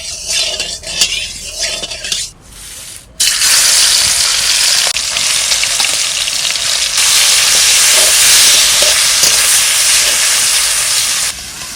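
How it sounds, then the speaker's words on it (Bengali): Small pieces of fish hit hot mustard oil in a pan, and after a few seconds of quieter kitchen sounds a loud, steady hissing sizzle bursts up and continues to the end. "মাছ কটা ভাজা করব"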